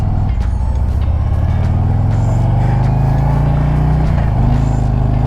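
A 2022 Harley-Davidson CVO Road Glide Limited with the 117 engine rumbles loud and close, a steady low throb of exhaust under continuous wind and road noise as it rides, pitch shifting slightly near the end.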